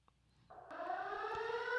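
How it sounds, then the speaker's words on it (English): A police siren sample dropped into a hip-hop beat rises in pitch and swells from quiet into a steady, loud wail over less than two seconds, heard alone with no other sounds. "So we added in a siren."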